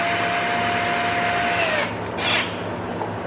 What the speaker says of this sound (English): I'm going to show you how I drill this out on the other cap from the driver's side now